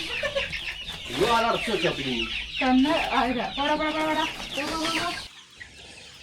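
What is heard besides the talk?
chickens clucking as they are let out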